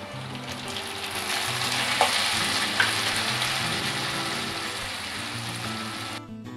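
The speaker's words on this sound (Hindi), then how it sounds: "अब मैं इसमें टमाटर ऐड करती हूँ।" Tomatoes going into frying onions for sambhar, giving a loud, dense sizzle that holds steady for several seconds, with a couple of sharp ticks from the pan, then cuts off abruptly at the end.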